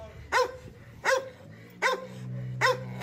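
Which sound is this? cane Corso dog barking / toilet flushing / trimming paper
cane Corso dog barking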